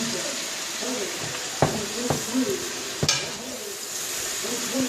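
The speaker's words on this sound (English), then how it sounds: "Make sure that you stir it from the bottom so that the bacon and the onions won't be sticking to the bottom of it." Bacon and onions frying in a pot give a steady soft sizzle, broken by a few sharp clinks and scrapes as a spoon stirs from the bottom, with faint voice in the background.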